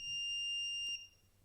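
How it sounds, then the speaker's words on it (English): A Sofabaton X1S universal remote running its find-my-remote function gives one steady, high electronic beep lasting about a second, then cuts off, leaving faint room noise. "you can activate it and it will beep"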